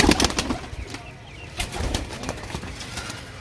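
A desi pigeon coos softly at close range in short bursts, with light rustling and faint background noise around it.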